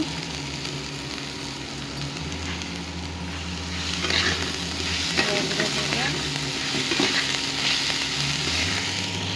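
Maggi pasta sizzling and frying in a pan while being stirred, a steady loud hiss with scraping stir noises that grow busier partway through, no talk.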